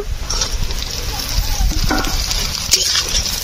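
Hilsa fish frying in a pan gives a steady, close hiss of hot oil, with occasional scrapes and knocks as the pieces are stirred.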